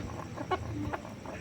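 A chicken gives a few short, soft clucks close by in a quiet setting.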